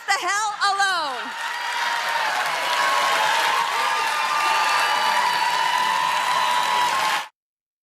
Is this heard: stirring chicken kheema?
no